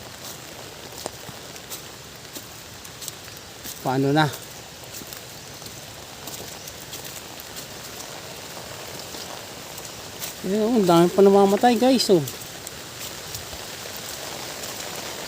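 Steady light rain patters throughout, with a person speaking briefly over it twice.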